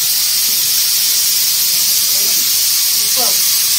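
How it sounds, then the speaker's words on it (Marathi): Bhaji fritters deep-frying in a pan of oil produce a loud, steady, close sizzling hiss that fills the whole stretch, with faint voices underneath. "दाखवतो तुम्हाला मस्त की मम्मी ते भजी तळते"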